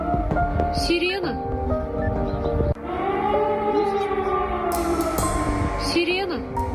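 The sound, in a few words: air raid siren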